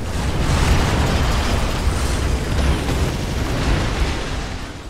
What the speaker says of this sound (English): we are under heavy fire!